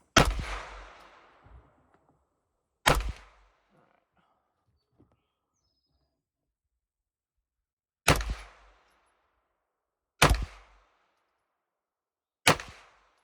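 A Henry Homesteader 9mm carbine fires five single gunshots at uneven intervals. Each is a sharp, loud crack with a short echoing tail, set against quiet outdoor background between shots.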